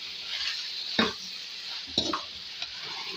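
Chopped tomatoes are stirred into a chicken karahi curry in a pan, making a few wet scraping strokes and soft clatters against the metal over a low background sizzle.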